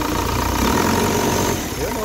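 A diesel engine of an Isuzu Crosswind runs loudly and close, with a thin turbo whistle riding over the steady rumble; the vehicle is smoky and low on power.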